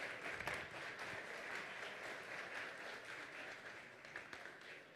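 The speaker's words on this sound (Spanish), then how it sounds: "E essa primeira salva de palmas eu peço a vocês mesmos que estão aqui," Steady audience applause from diamond members at a Cruzeiro club event, a continuous dense patter of many hands, fairly faint and distant, with no talk over it.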